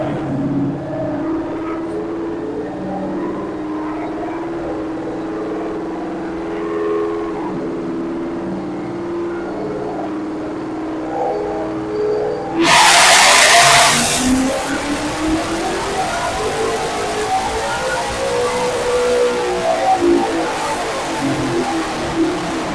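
A 2024 Mustang GT V8 on a dyno pull, with the engine note climbing steadily as it revs toward about 7,400 RPM. A sudden loud blast of broadband roar follows, and the sustained, close, aggressive engine sound continues without talking.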